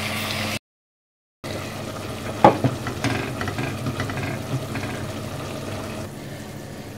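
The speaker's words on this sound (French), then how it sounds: "Et je vais remuer jusqu'à l'épaississement de la béchamel" Béchamel sauce is stirred in a pan as it thickens for a chicken and potato gratin, a soft bubbling, scraping stir with a few clinks of the utensil, close and fairly quiet after a brief cut to silence.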